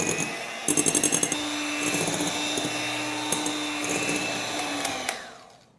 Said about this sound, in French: Je vais remettre le sucre ici et le battre à nouveau.